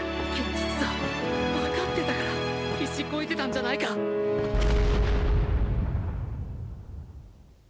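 Explosion in the Android game My Hero Academia: The Strongest Hero: a loud, broad rumbling blast that decays slowly, following busy tonal game effects and music.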